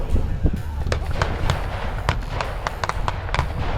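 Gunfire at a military battle reenactment with British Airborne troops in jeeps advancing on a German-held village: a dense run of sharp cracks and pops, some nearer and louder, over a constant rumbling crowd and engine background.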